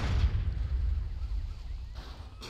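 A deep, booming explosion in GTA San Andreas, loud and close at the start, followed by a rumbling decay and a couple of sharper bursts near the end.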